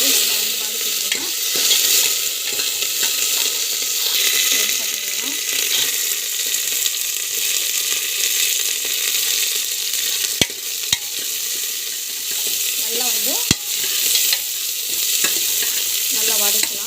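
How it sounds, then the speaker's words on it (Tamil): Chana dal sautéing in a hot pan, a steady loud sizzle with scraping stirs and occasional sharp clinks of the spoon against the pan, heard alone throughout. "கடலைப்பருப்பு போட்டு நல்லா வந்து வதக்கும்"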